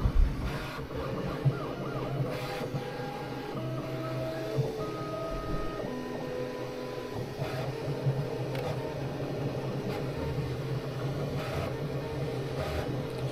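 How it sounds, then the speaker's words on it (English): A Bambu Lab A1 Mini 3D printer heats its nozzle to load filament, giving off a steady mechanical hum with short stepped motor tones that rise and shift, close and continuous with no voices. "So it's heating the nozzle up to load the filament in."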